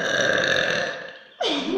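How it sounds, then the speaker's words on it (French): A man lets out long, loud, close burps, one drawn-out belch tapering off, then after a brief gap a second one starts abruptly, with no speech. "je peux pas roter plus fort"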